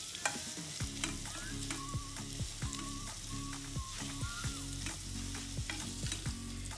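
Chopped leek for a vegan pumpkin soup goes into a hot oiled pot, sizzling and frying steadily while a utensil stirs and scrapes it, with repeated knocks and clinks throughout and no talking.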